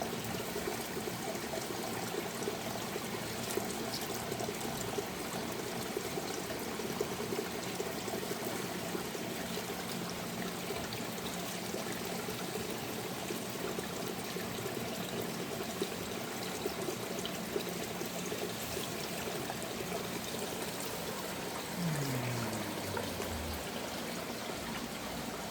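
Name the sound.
water trickling in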